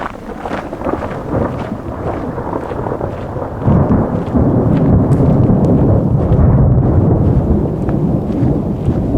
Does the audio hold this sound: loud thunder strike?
yes